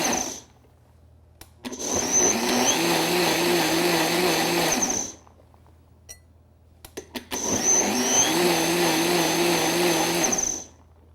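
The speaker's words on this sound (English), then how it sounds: "Over to my Vitamix Bar Boss Advance. I'm going to pulse this until it's almost smooth," A Vitamix Bar Boss Advance blender pulses lemons in two loud, roaring bursts of about three seconds each, separated by a short quiet gap with faint clicks and knocks.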